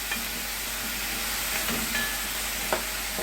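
Sausage frying in a pan with diced tomato, pepper, salt and black pepper, a steady soft sizzle with faint scrapes of stirring, heard close and alone with no talk.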